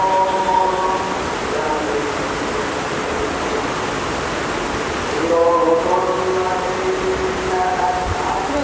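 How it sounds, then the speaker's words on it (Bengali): A loud, continuous roar of heavy rain and wind fills the clip, with voices faintly talking underneath. "ঝড় আসছে"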